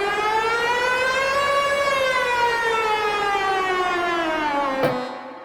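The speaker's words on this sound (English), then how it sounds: "we get kind of like a dubby effect sort of siren basically going on here" Dub-style siren synthesized in the Vital soft synth, a loud, steady, harmonic-rich tone that slowly rises, then falls over several seconds before cutting off with a click, playing alone.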